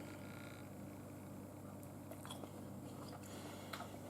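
Someone bites into and chews crunchy fried cabbage and onions made in a Ninja Foodi, giving soft, close mouth sounds with a few faint crunchy clicks over a steady low background hum.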